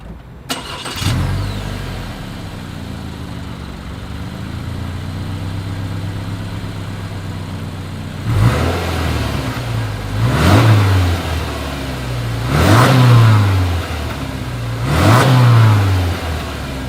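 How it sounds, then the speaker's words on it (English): A 2020 Subaru Forester engine cranks and catches, idles with a burbling exhaust, then revs sharply four times, each rise and fall louder than the idle. "As always, here is that exhaust clip."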